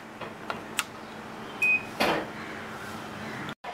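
An air fryer set to its cake program at 155 degrees for 30 minutes starts up with a few soft button clicks, a short electronic beep, then a rush of fan noise settling into a steady hum.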